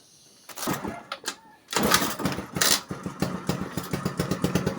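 A Rusi Gala 125 scooter that smokes from the exhaust and burns oil starts up and runs close by, its engine churning with an uneven, pulsing rhythm after a brief quiet start, with voices speaking in between.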